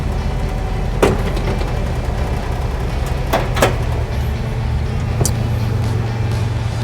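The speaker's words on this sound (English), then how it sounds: "Nice sound from the motor." A 1973 International Scout with a 345 V8 and a new two-barrel Holley carburetor idles loudly and steadily up close, a constant low rumble with a few brief clunks over it.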